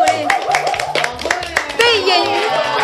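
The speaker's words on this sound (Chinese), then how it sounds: "掌声鼓励！" An audience claps at a stage event featuring a singer and actor, with a busy patter of hands blending with music and voices in the background, fairly loud and close.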